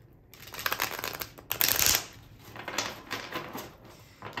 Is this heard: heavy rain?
no